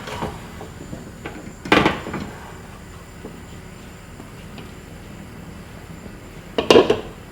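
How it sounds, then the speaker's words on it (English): Cooking pans are swapped on a stovetop while a Sunday roast dinner is being made, giving two brief clattering metal knocks several seconds apart over a quiet kitchen background. "I'm going to swap my pans."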